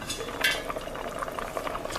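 Salt and pepper are stirred into a pot of simmering Southern lady peas, with bubbling liquid and the light clink and scrape of a spoon against the pot in short, close bursts.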